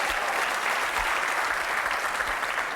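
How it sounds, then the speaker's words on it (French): A TV game show studio audience on the French programme Attention à la marche claps steadily and fairly loudly throughout, a continuous, even wash of applause with no voices standing out. "Peut-être on va vous applaudir aussi."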